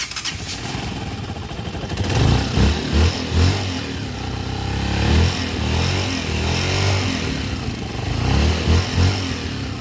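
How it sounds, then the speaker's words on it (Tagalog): A Honda TMX125 Alpha motorcycle engine converted to 200cc runs loudly up close, idling with a rough, uneven putter and a few small revs throughout; the timing gear is rough. "Pakinggan muna natin yung andar"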